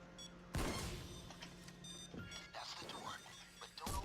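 Sharp gunshot bursts in the video game Payday 2: a loud shotgun blast followed by several quieter shots, with game beeps and noise in between.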